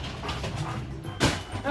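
A puppy whimpers and lets out short high yips close by, in brief bursts amid quiet indoor household sounds.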